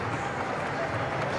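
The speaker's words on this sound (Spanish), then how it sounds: "Se aplaude." A boxing arena crowd in Neuquén, Argentina applauds at the end of a bout, a steady dense wash of clapping and crowd noise throughout.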